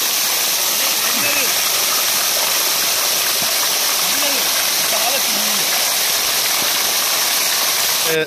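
Strong, steady rush of water from a small water pump where people are bathing in a village, loud and continuous, with faint voices and shouts under it.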